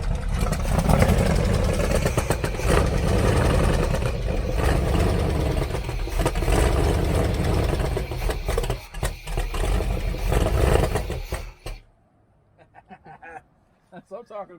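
A Chevy 454 V8 engine runs loud and rough as gas is given, a heavy rumbling roar with surges that cuts off abruptly near the end, leaving brief quiet voices.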